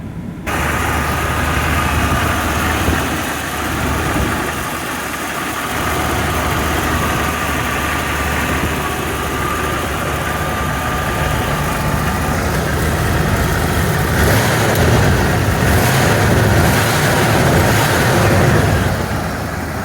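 A 1992 Ford F250 extended-cab 4x4 with a big-block engine idles steadily at low RPM, a continuous deep rumble with slight fluctuation and a faint miss, close and fairly loud throughout with no talking.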